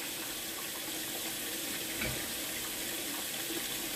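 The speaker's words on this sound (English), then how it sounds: "But first let me rinse off my mushrooms." Mushrooms rinsed under a running kitchen tap while cooking, a steady close hiss of flowing water splashing into the sink, continuous and even throughout, with no voices.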